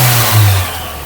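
An old car engine revs loudly up close, a steady low mechanical drone swelling briefly before easing off, with no voices over it.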